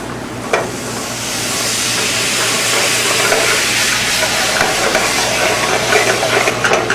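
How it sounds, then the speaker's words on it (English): Balsamic vinegar poured into a hot pan of lamb sauce hisses and sizzles in a loud, steady rush of steam after a brief initial splash, close up and without voices. "I'm going to add some balsamic vinegar."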